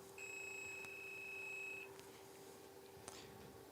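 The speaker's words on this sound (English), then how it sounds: "So I can't show you my multimeter, but I can guarantee you'll hear this beep." A multimeter in diode/continuity mode gives a steady electronic beep lasting under two seconds against a quiet hum, followed by a couple of faint clicks.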